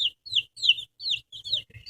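Chickens cluck in a run of short, repeated bursts of calls during a worm keep-away game with the birds, close and fairly clear with brief pauses between calls.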